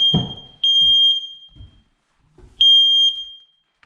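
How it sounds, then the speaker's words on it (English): A smoke alarm in a 1970s house lets out two loud, piercing high-pitched beeps about two seconds apart, with a thud and faint rustling before the first. "just ignore that, that's the smoke alarm."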